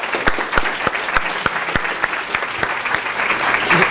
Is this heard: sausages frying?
no